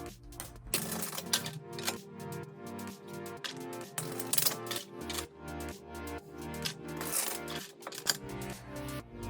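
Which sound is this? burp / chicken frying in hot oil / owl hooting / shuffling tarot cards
shuffling tarot cards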